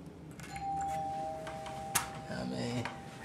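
A doorbell rings at the door of a Las Vegas suite room, giving a sustained bright chime tone followed by a sharp click, with voices talking nearby.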